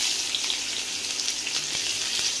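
Chopped onions frying in hot oil for Maggi noodles give a steady, close sizzle with faint crackles and a few soft taps, with no talking.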